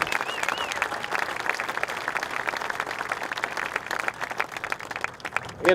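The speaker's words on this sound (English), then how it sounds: "let's give them another round of applause" A large crowd at an outdoor bridge dedication ceremony applauds steadily, a dense wash of clapping that holds for several seconds before tapering slightly at the end.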